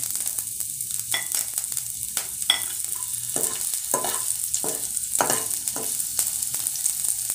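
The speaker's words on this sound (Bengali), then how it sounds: "তেল গরম হয়েছে, এখন দিয়ে দেব রসুন" Sliced garlic sizzles and fries in hot oil in a pan, a steady hiss broken by bursts of crackling and stirring scrapes, close and fairly quiet.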